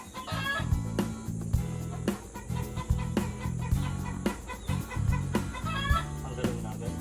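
A chicken clucks repeatedly in short, jerky bursts, close and fairly loud, with sharp handling knocks and faint voices in the background.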